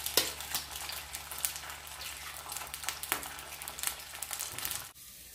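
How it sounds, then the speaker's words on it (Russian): An egg fries in a hot pan with a continuous crackling sizzle and scattered pops, fairly close, steady through most of the stretch and then cutting off abruptly near the end. "И затем жарим еще одно яйцо."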